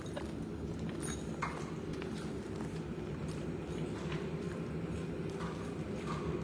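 Horse hooves clop steadily on the ground at a relaxed walking pace, moderately near, over a low background murmur with no clear speech.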